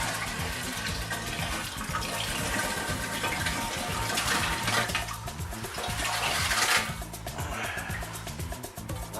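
Water poured into a fish bowl while it is being aquascaped with substrate and cycled media, a steady close gush and splash running throughout, swelling briefly near the end before easing off.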